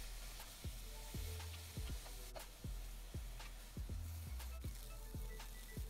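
Onion and cauliflower fry in oil in a saucepan under a soft steady sizzle, punctuated by roughly regular scraping and knocking strokes as a utensil stirs them around the pan.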